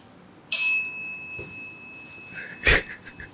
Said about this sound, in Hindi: घंटी बजा दूँ? ये बजा दूँ।